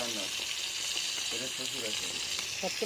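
Fish sizzles and crackles in a frying pan in a continuous, close hiss, while people talk intermittently over it.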